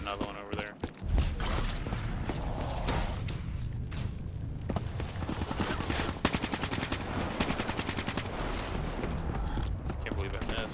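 Rapid gunfire from the video game Black Ops 3, bursts of automatic shots and impacts repeating loudly and almost continuously, mixed with game sound effects and someone talking over the top.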